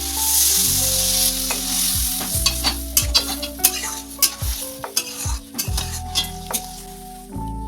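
Mustard-poppy paste for a rohu fish curry sizzles in a pan as a little water is added, with loud bursts of hissing, repeated metal spoon scrapes and clinks against the pan.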